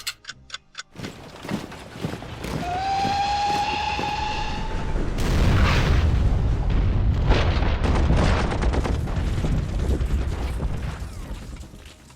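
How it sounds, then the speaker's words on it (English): Battleships shelling coastal cities in the WWI strategy game Commander: The Great War: a few sharp clicks, a brief rising tone, then a sustained rumbling, booming barrage that rolls on for several seconds before fading slightly. "They even brought battleships to bomb our coastal cities."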